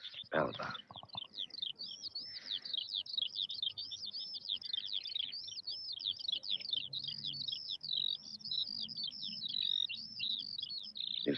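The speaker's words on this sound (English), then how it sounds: "the birds start to sing" Birds sing continuously in rapid, repeated trilling phrases, bright and steady throughout, with a soft low background murmur beneath.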